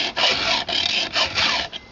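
Hand file rasping across chainsaw chain teeth to sharpen them, four or five steady strokes in a row, close and loud, no voices.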